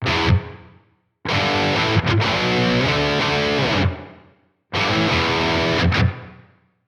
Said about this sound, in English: we're going to have a very quick and immediate reverb tail that's not going to last very long